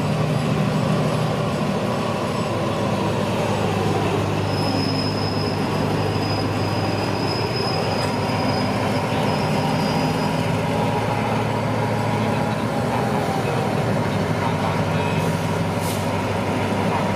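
A train pulling in and coming to a stop at Bang Sue station in Thailand: loud, constant rumbling of rail wheels with a thin metallic squeal, heard close throughout without talk.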